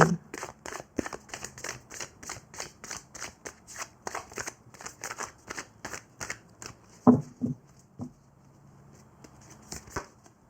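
Oracle cards being shuffled in a rhythmic series of crisp, close riffling slaps, followed by a sharper thump and a few softer card sounds before it goes quiet.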